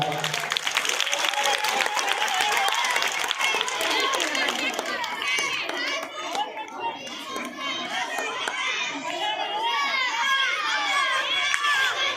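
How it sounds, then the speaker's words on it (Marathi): School students in a rural village school clap loudly in a fast, dense burst, then the clapping gives way to excited children's shouting and crowd chatter. "जोरदार टाळ्या वाजूया"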